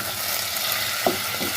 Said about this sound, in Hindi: इसे तकरीबन 1 से 2 मिनट के लिए जो है ना आपने फ्राई करना है अजवाइन वाले ऑयल में